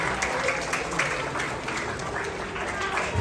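An audience claps together to welcome guests, including a comedian and magician, at a national abacus competition; dense, sustained applause that stays even throughout.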